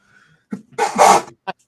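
A single sharp human sneeze, preceded by a short intake of breath and followed by a brief sniff, close and loud in a quiet room.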